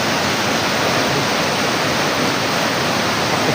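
Rushing floodwater current, a loud, unbroken roar of churning water that stays constant throughout, close and overwhelming, with no voices audible.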